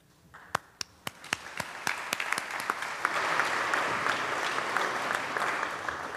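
Applause for visiting students in the New York State Senate chamber begins with a few sharp, separate claps, then swells into a broad, sustained round from a crowd.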